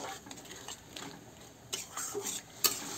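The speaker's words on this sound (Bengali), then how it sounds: "মশলাটা ভালো করে কষাবো" Spice paste for a Bengali rohu fish curry is stirred in a pan, with soft intermittent scrapes and clinks of a spoon against metal over a quiet, faint sizzle.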